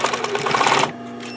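Close, loud Bernina sewing machine backstitching a seam on a scrap-fabric pencil case: one dense mechanical burst lasting under a second, then it stops abruptly.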